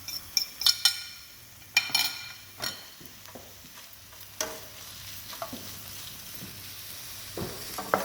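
Beef with sweet paprika and garlic sizzles quietly in a pan, punctuated by sharp clinks and scrapes of a utensil stirring against the metal at irregular intervals.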